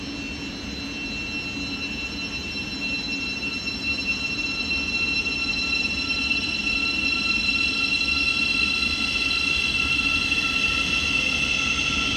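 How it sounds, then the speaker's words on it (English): A Class 700 unit, 700 059, runs from London King's Cross to Cambridge into platform 2 at Hitchin. A continuous close rumble carries sustained high whining tones and faint wheel squeal, growing slightly louder as it arrives. "arriving in platform 2, we've got a Great Ormond service operated by another Class 700"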